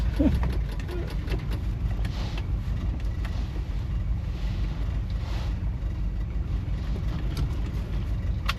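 An Edsel's steady, rumbling engine runs continuously at a low idle while reversing, with faint clicks and movement noises on top and no clear speech.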